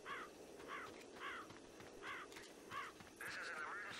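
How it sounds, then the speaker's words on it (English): Crows caw in the game Left 4 Dead, with several short harsh calls repeating steadily at moderate distance. A longer wavering call closes the run, all over a continuous ambient game background. "Like when you run through here, you alert the crows."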